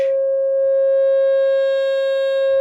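A Moog Satellite synthesiser holds one steady, loud electronic tone with a pure fundamental and a stack of even overtones that grow brighter toward the end, sounding alone with no voices.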